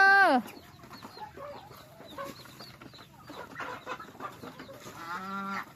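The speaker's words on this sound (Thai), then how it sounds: "ทั้งเป็ดทั้งไก่" Chickens cluck and crow on a rural farm beside green rice fields, with ducks also present; several birds call in loose bursts, a loud squawk at the start and another near the end, over low outdoor background noise.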